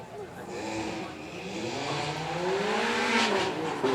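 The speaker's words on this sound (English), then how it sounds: "Lovely to hear those valves open in the exhaust to get the full noise there." A naturally aspirated Ferrari V8 with its exhaust valves open roars at a supercar weekend show, rising and revving louder toward the end, heard close with a voice talking over it.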